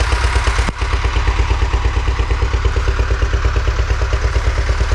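A hot motorcycle engine that misfires when warm runs close and loud at a steady idle, a rhythmic chugging pulse with clattery mechanical noise and one brief dip near the start.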